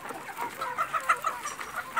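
Chickens cluck in short, repeated calls on a small urban farm plot, several birds close by with a rhythmic series of clucks over a faint background.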